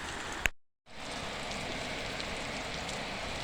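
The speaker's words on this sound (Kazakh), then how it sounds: "Міне Маңғыстаудағы нөсер жауын." Heavy downpour rain in Mangystau hisses as a dense, even wash, cut by a short dropout of silence near the start before the steady roar resumes.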